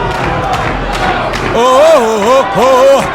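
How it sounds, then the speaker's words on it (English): A wrestling crowd roars at a live event, a loud, dense wash of cheering that becomes a rhythmic, sing-song group chant rising and falling in repeated phrases. "Del Bruno, now there's chant from the crowd."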